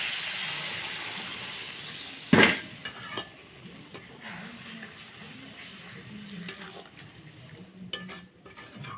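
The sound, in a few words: water added to frying shankar fish curry in pan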